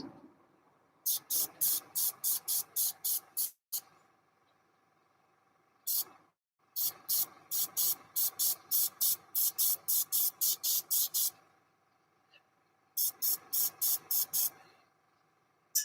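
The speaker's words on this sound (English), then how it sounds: "as the colours in the airbrush get lighter, I'm just using them to blend in the lightest parts to the shadows I've just created" An airbrush sprays paint in repeated groups of short, sharp hissing bursts separated by pauses, close and fairly loud over a faint background hum.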